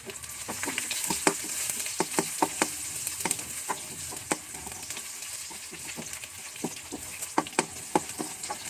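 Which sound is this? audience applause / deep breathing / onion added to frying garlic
onion added to frying garlic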